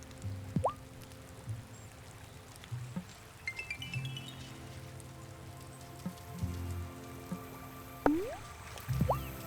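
Steady patter of summer rain falling on a surface in the video game Wylde Flowers, with occasional louder drips and soft thuds over a constant wet hiss.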